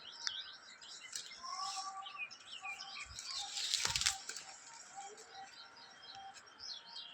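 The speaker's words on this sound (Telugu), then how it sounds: "టేస్ట్ పిట్టెలు తినేస్తున్నాయి, చిలుకలు తినేస్తున్నాయి." In a fruit tree, parrots and small birds feed while wings flutter and flap, a louder burst of flapping rising midway amid steady chirps, tweets and calls from several birds.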